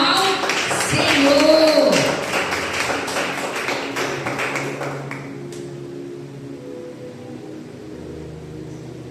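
A church congregation at an evening gathering claps together to welcome someone speaker, a dense burst of applause lasting about five seconds before it thins out and fades, with a voice speaking over it.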